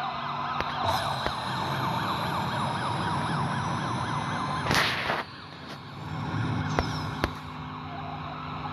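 Wailing police sirens in Need for Speed No Limits sweep up and down over engine noise, with a sharp crash-like burst midway and another siren pattern resuming after.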